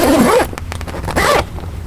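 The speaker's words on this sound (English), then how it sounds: "easy working zipper." The zipper on a Polaris RZR 570 soft rear windshield is pulled in two quick, rasping zips close by, with short fumbling rustles of the fabric panel between them.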